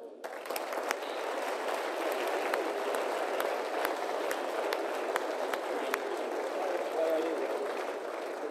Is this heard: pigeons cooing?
no